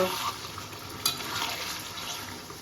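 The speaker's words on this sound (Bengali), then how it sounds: "আমি এটা মাঝে মাঝে নাড়া দিয়ে নিচ্ছি" Mutton curry (kosha) stir-fried in a pan, giving a steady, close sizzle with a soft, scraping stir near the middle. No one speaks.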